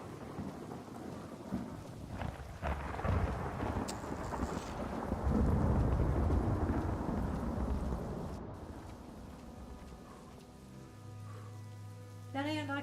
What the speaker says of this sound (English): Storm's too loud.